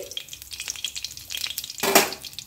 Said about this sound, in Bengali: আরও কিছুটা পনির আছে, আমি এই তেলেই ভেজে নিচ্ছি।